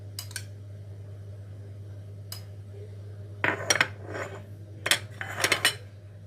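A metal baking tray of pizza clanks and scrapes as it goes into a kitchen oven, a few sharp metallic knocks and rattles over a steady low hum, close by and fairly quiet.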